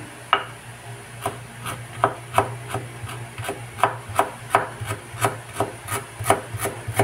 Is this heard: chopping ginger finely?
yes